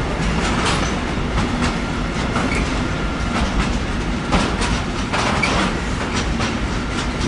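A train slowly entering a station in Aschaffenburg: steady rumbling rolling noise with rhythmic wheel clacks over rail joints, loud and continuous, without talk.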